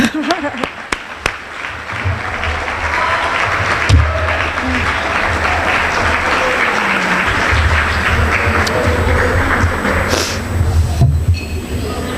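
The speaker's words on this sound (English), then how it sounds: "Well, he's here, so let's clap." Audience applause at an academic and athletic awards banquet as an honoree for bilingual education is called up, with a few sharp claps building into sustained crowd clapping, voices mixed in and occasional thumps.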